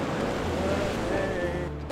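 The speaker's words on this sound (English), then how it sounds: "Ocean waves. Golden Gate." Ocean waves at the Golden Gate, heard from the bridge, rush in a steady, dense wash mixed with wind buffeting on the microphone and a faint low hum throughout.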